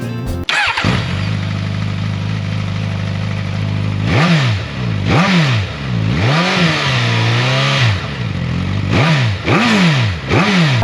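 Suzuki GSX-S1000GX motorcycle engine cranking and firing up, then settling to a steady idle before a series of sharp throttle blips that rise and fall in pitch, loud and close.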